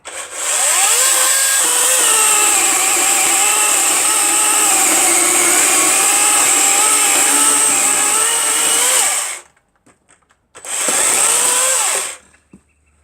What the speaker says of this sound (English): the instructions on this saw said it's got an overload on it, so you can't destroy the motor